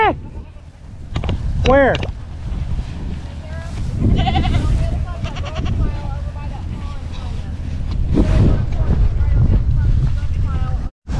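Goats bleat several times at close range during a livestock sale, their calls rising over steady wind buffeting and a low rumbling background, with a person's voice briefly heard.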